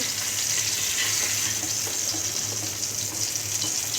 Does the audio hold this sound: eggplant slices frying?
yes